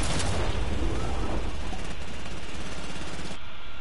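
Video game gunfire from a solo match, a loud dense burst of shots and blasts filling the whole short stretch, close and continuous.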